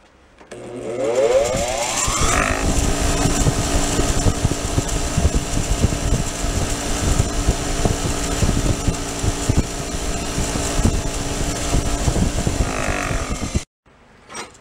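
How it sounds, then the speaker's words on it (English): A motor-driven wire wheel spins up, then whirs loudly and steadily as a small vehicle part is pressed against it for cleaning, with rough grinding scrapes over the hum before it winds down and cuts off. "Clean that against the wire wheel"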